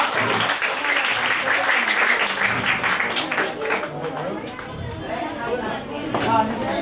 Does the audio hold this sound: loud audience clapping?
yes